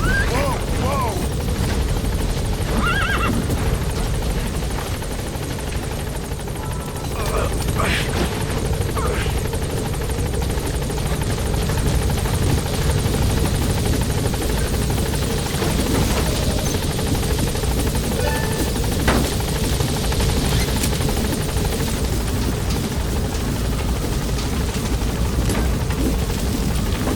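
Pequod, a helicopter in the video game Metal Gear Solid V: The Phantom Pain, thrums with a loud, steady rotor drone throughout, broken by scattered distant bangs like gunfire.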